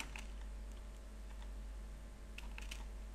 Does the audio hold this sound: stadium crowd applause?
no